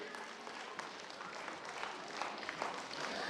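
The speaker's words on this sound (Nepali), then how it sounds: "कृपया तालीको गडगडाटको कवि सुनिरहेको छु मैले।" At a school annual function and parents' day, an audience gives a guest steady applause. It is a continuous, dense patter of many hands at moderate distance that grows slightly louder near the end.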